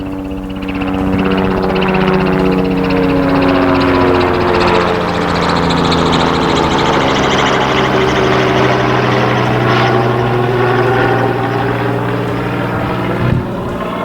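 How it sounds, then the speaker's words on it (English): A loud, steady engine drone with rotor throb passes overhead, its pitch sliding gradually as the aircraft moves by. "Oh, here come the helicopters."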